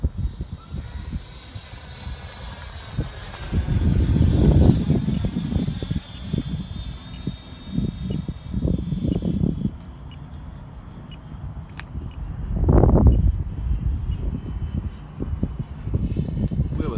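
A Freewing F-5 model jet in camo scheme makes a pass overhead, its turbine whine swelling and fading in waves, loud at the nearest point and then again later, with outdoor wind noise throughout.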